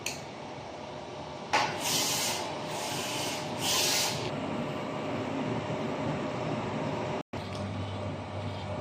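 Inkjet printer with an ink tank system running a nozzle test print after a head clean, a steady close whir with brief hissing bursts and a short pause late on, no talk.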